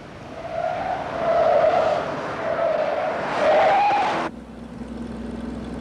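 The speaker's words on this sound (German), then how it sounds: "wie dieser Schleudertest beweist" A late-1960s car with power steering skids in a handling test, tires squealing in long wavering howls that rise and fall for about four seconds, then cut off abruptly, leaving a low engine drone.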